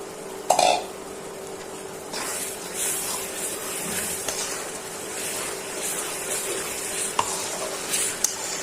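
Peeled garlic cloves and spice paste frying in a pan for a rohu fish curry with winter beans, stirred with soft scraping over a low sizzle, close and fairly quiet, with an occasional sharper clink and no talk.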